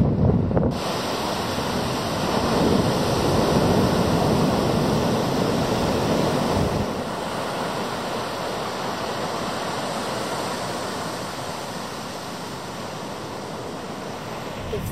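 Surf rolls onto a beach in the Outer Hebrides as a steady, broad roar that swells and eases, mixed with wind buffeting the microphone, with no voices.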